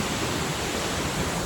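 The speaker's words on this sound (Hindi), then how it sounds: "बहुत तेज़ आवाज़ वाटरफॉल का आ रहा है" Powerful mountain waterfall on the Hampta Pass trek, heard from right beside it as a continuous, enveloping roar of crashing water, broadband and unbroken.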